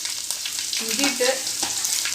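Sliced ginger sizzles and crackles steadily in hot oil as it goes into the pan for a Kerala-style prawn pickle, a close, continuous frying hiss with no voices.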